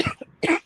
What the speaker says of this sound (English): I've got the cough still.